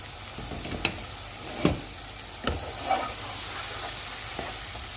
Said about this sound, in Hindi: ये नरम हो गए हैं, इनको इस तरह से मैश कर लेंगे